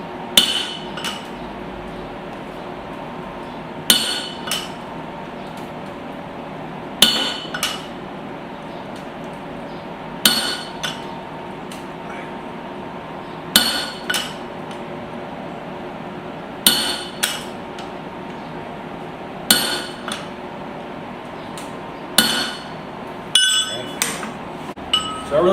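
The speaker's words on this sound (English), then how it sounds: "let's go ahead and see about getting this punched through" Hammer blows on hot steel at the forge while punching a hole through a small hammer head, sharp metallic strikes in short bursts repeating every few seconds against a quiet hum, with talking in between.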